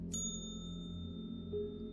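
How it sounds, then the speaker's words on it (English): A small silver service desk bell tapped once, giving a single bright ding near the start whose clear ringing tone sustains and slowly fades over a low steady room hum. "the bell tinged"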